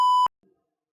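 A single loud electronic censor bleep, a pure steady tone lasting about a quarter second, cuts off sharply, followed by a faint brief murmur and then silence.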